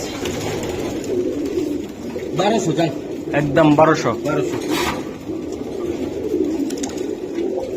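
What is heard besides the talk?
pigeons cooing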